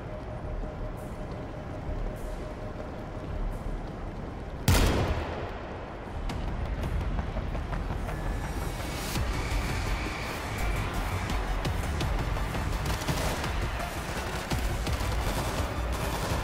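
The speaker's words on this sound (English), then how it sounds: "Stationary machine gun in position." Mounted machine gun firing in the World War Z video game, a dense, continuous rattle of rapid gunfire amid game noise, with one sharp louder blast early on.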